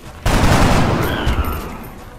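Gunfire in the XCOM video game, a sudden loud burst of overlapping shots and booms that starts abruptly and rolls on with a dense, rumbling tail, close and heavy.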